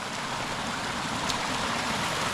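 Rain-swollen creek water rushes steadily at the end of a valley on a farm, a loud, continuous broadband wash with no pauses.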